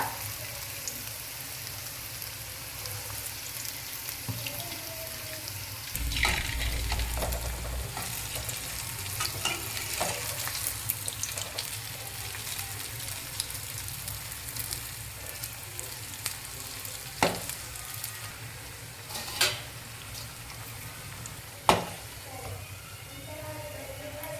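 Rasam vada frying in hot oil until lightly golden brown: a steady, close bubbling sizzle that runs throughout, swelling louder for a moment with a few sharp clinks and scrapes scattered through it.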